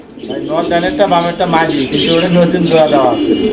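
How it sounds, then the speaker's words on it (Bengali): A pair of racer pigeons coo in soft, throaty repeated phrases close by, partly under someone talking over them. "এখানে আরও এক জোড়া কবুতর আছে এটা রেসার কবুতর একটা জোড়া"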